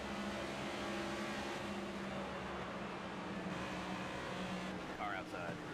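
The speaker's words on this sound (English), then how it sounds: "Car outside." A car rumbles steadily in the background with a continuous engine drone, with faint high chirps near the end.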